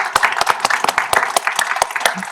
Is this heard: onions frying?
no